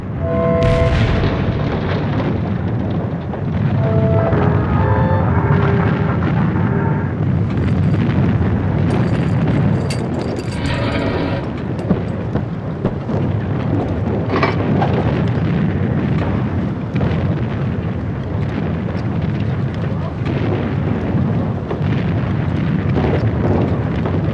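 Heavy First World War artillery shelling rolls on continuously, with dense overlapping booms and bursts from guns on both sides forming a loud, sustained battlefield roar and a few sharper reports cutting through.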